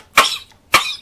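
Two sharp, loud coughs from a man, close up, about half a second apart, each with a short rasping tail, heard alone with no talk.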